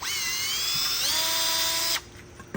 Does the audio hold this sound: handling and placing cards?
no